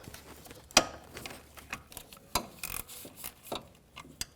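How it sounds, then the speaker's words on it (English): A swivel-head socket ratchet works a 12mm nut off the serpentine belt tensioner of a 2003-2008 Toyota Corolla, giving sharp metallic clicks and clanks in an irregular run, close and fairly loud, with no talking. "Get your socket on here and remove that nut."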